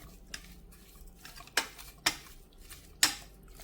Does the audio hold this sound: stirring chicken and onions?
yes